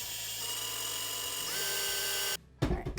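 An electric mixer beats chocolate shortbread dough with a steady, close motor whine that rises in pitch partway through, then cuts off abruptly, followed by a short clatter.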